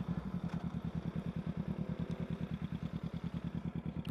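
A 2014 Kawasaki Z250 motorcycle idles close by, its exhaust a quiet, steady low-pitched putter with evenly spaced pulses running throughout, no voices over it.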